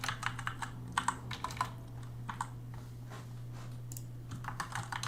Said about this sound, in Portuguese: vou digitar o nome dele aqui, Eduardo.